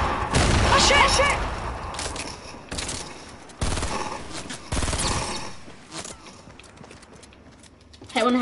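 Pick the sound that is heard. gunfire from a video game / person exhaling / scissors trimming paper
gunfire from a video game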